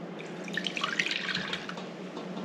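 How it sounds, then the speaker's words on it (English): Boiled turkey tail mushroom tea being strained, a soft close trickle and patter of liquid pouring and dripping, quiet and continuous for a couple of seconds. "So I'm just going to strain it."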